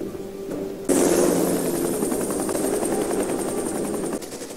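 Helicopters fly toward a compound in a special-operations TV drama, their rotors beating in a loud, steady thrum that swells abruptly and holds, then eases slightly near the end, with no speech.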